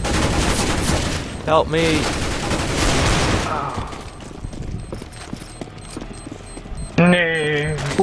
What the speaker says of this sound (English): He shot his teammate also.